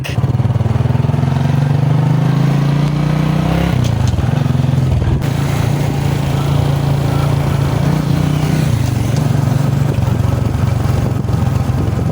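A motorcycle engine with a faulty, noisy timing chain tensioner idles loud and close, warmed up, with a steady rumble and light rhythmic ticking that dips briefly and then returns.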